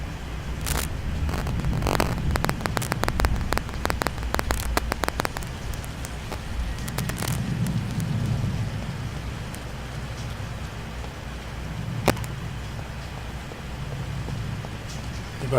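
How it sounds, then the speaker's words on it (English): Steady rain from a thunderstorm in a New York street scene in the game Vampyr, a dense constant wash with a cluster of sharp crackling impacts early on and a single crisp snap near the end. "Apparently we're having a bit of a thunderstorm in New York,"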